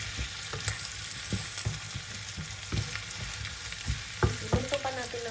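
Onion and garlic with black pepper frying in a pan, a close crackling sizzle broken by frequent light scrapes and taps of stirring, no talk.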